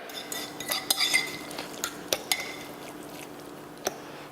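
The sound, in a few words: stirring mushrooms into meat sauce in a pan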